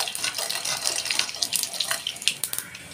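Mustard seeds temper in hot oil in a kadai, giving a close, busy sizzle of fast crackles and small pops. It rises and falls unevenly for a few seconds.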